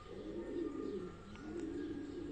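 Pigeon cooing close by in a bird-keeping setting, a soft steady low murmuring coo sustained through the clip with faint chirps above, no talking.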